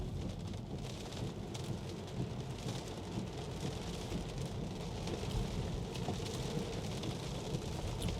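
Steady heavy rain drums on a Tesla while it is driven, a dense wash of drops and road spray that persists throughout with no talk.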